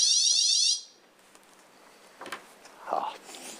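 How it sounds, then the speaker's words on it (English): A fire alarm in a courtroom gives one loud, steady electronic pulsing tone that cuts off after under a second, followed by quiet room sounds and faint footsteps. "Apologise for the fire alarm."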